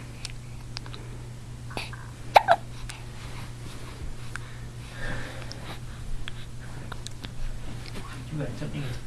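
A baby boy's hiccups come as a few small, soft hics, one sharper pair near the start, over a steady low household hum and faint rustling, with occasional quiet breathing or snorting sounds.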